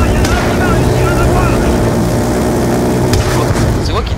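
A helicopter strafing run in Call of Duty Black Ops 2 gives a steady, loud rotor and engine drone with scattered gunfire bursts and impacts layered over it.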